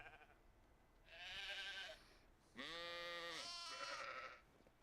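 Sheep in the Medieval Dynasty game bleat in two long, wavering calls, the second louder and fuller than the first, with no talk over them.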